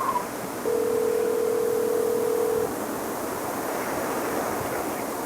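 An unanswered phone call rings outdoors as a single steady electronic tone lasting about two seconds, heard over loud, constant wind and surf-like rushing noise.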